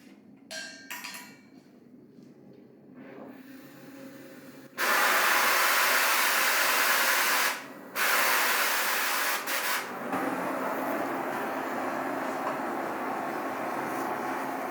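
Oxy-fuel Mini Foudre cutting torch being lit and adjusted, its flame a loud steady broadband hiss that swells in after a few quiet seconds, briefly dips, then roars on continuously.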